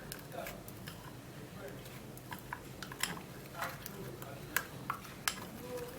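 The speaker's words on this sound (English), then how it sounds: "I'm going to be stirring this all up together." A spoon stirring aloe vera gel mixed with a few drops of olive oil in a small bowl, with light clinks and scrapes repeating irregularly against the dish, close and fairly quiet.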